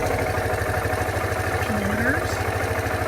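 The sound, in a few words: Suzuki Van Van motorcycle engine idling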